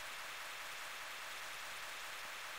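Faint, steady rain falls in a Pokemon Fire Red hack video game as an even, soft hiss that continues unchanged throughout.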